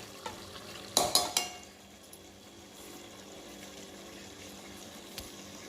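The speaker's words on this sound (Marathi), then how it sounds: "आता यामध्ये मी हे तांदूळ घालून घेते" Dry rice is tipped into a pan of potatoes and peas for a spiced Marathi rice dish, a quick close burst of rattling grains followed by faint clinks and a soft background hum.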